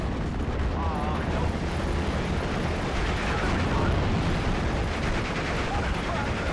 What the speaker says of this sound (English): Lovely rocket there from my Panzerwerfer. Hits the 17-pounder directly and kills it off.